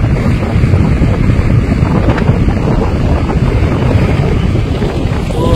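Strong, steady wind roars across an open hilltop near the Velliangiri-style hill temple area in Sirumalai, Tamil Nadu, buffeting the microphone in a continuous low rumble with no pauses.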